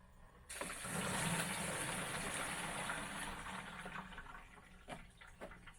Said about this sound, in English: I dumped all the water, solution, whatever, into the bucket